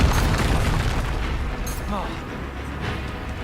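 A booming, explosive blast from the Confringo spell in Hogwarts Legacy, loud and close, with a deep rumbling tail fading under a brief voice.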